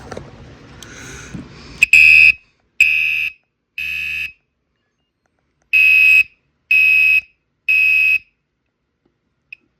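After a brief rustle, a Gentex Commander 5 LED horn/strobe fire alarm on its low setting blares in six short, evenly spaced bursts, loud and buzzy, with silence between each blast.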